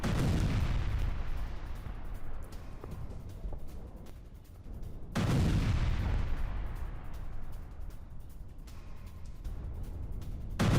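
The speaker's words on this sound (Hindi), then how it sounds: "विस्फोटक से भरे सैन्य ट्रक पर हुआ ब्लास्ट" A heavy, rumbling blast from an explosives-laden military truck, followed by a long roaring decay, then a second deep boom partway through, both booming and distant with sustained low rumble.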